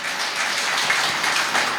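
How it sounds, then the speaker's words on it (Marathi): Steady, dense applause from an audience at a religious discourse, continuous and fairly loud throughout. "टाळ्या वाजवत जातो."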